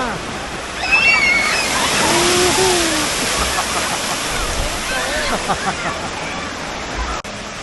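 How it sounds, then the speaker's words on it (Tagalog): A large bucket of water dumps down at a water park in a heavy rushing pour, a loud broad splash that lingers as sloshing, with excited voices calling out over it. "Tapos babagsak yung tubig sa kanila ng ano, isang bugahan."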